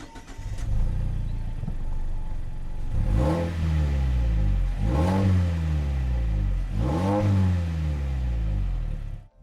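A Mazda 3 with a 2-litre engine revs three times in a row, each rev rising and falling in pitch, loud and close.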